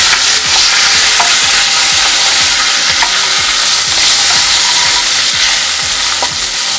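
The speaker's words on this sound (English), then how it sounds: "Give it a nice mix." Roasted peanuts, curry leaves and asafoetida being mixed in a hot pan for keto mor kali, loud continuous sizzling with repeated scraping strokes of a spoon.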